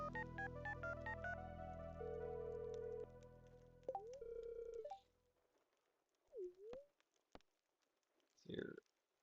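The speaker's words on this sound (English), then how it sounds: "So let's use the phone." Telephone dialing in the Stardew Valley video game plays as a rapid run of short stepped electronic tones, followed by a sustained ringing tone and scattered soft game clicks and blips in an otherwise quiet clip.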